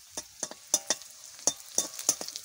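Whole spices frying in oil in a pan for mutton curry, with sharp sizzling spatters and stirring scrapes coming in quick irregular bursts, close and fairly loud.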